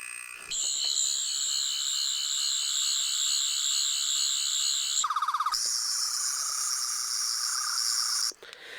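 A bootleg 10th Doctor sonic screwdriver toy whine, a steady warbling high tone that breaks into a short buzzing burst, then resumes at a higher pitch before cutting off; it plays only the first part of the effect and loops back.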